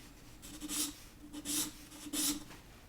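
A pencil sketching on paper, three soft raspy strokes spaced evenly, quiet and close with no voices.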